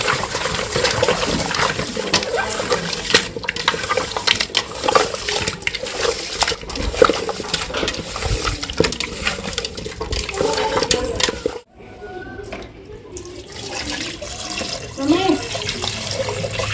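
Fish being washed by hand with coarse salt and water gives continuous close splashing and running water, broken by a short pause before the sloshing resumes.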